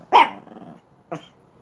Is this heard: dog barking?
yes